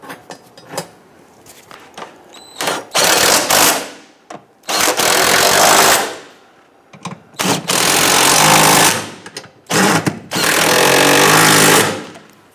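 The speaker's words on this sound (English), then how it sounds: "Go ahead and tighten down our transmission mount nuts here." Power tool bursts tightening transmission mount nuts on a 2011-2021 Jeep Grand Cherokee 3.6L V6, several loud rattling runs of a few seconds each, separated by short pauses and clanks, with no talking.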